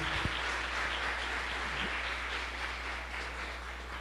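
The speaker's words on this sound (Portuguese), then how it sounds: "Pode aplaudir ao Senhor" Applause from a church congregation, a full, continuous roar of many hands clapping at a steady level from start to finish, with only a faint low thump early on and no speech.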